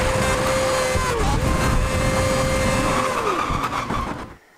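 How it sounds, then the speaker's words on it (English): Formula One car tires in the 2011 Codemasters Formula One game squeal in a sustained high whine over loud engine roar, pitch sliding down twice before the sound cuts off at the end. "the tires make like a second level squealing noise, and you know that it's about to go"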